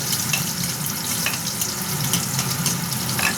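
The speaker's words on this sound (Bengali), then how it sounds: "আমি পেঁয়াজটা একটু ব্রাউন করে ভেজে নেব, বেশি লাল করবো না, হালকা লাল করে ভাজবো।" Steady, dense sizzling of onions frying to light brown in a pan, a continuous crackling hiss with faint scattered pops, close and fairly loud, no voices.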